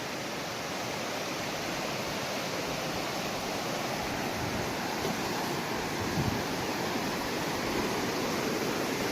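A river rushes steadily beside a trail bridge, a dense broadband wash of flowing water that stays even and close throughout with no other sounds standing out.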